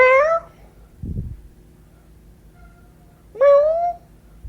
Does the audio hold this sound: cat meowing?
yes